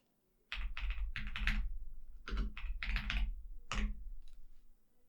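Someone types an Ollama command into a computer terminal on a close, crisp keyboard. Quick bursts of keystrokes come in several clusters with short pauses between them, and no voice is heard.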